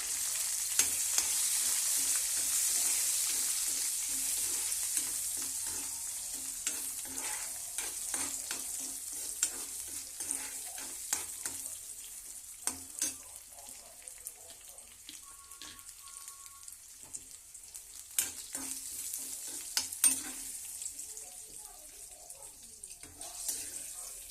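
Dried red chillies and garlic fry in hot oil as tempering for spinach chutney, a loud hissing sizzle that softens over time, punctuated by scattered clicks of stirring.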